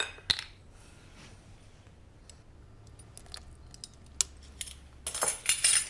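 Vanilla extract and lemon zest being mixed into a batter in a bowl, heard as a few sharp clinks of a utensil against the bowl with quiet stirring in between and a burst of brisk scraping and clatter at the end.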